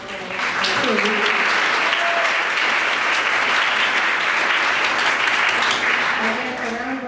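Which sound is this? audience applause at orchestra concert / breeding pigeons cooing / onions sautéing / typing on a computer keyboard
audience applause at orchestra concert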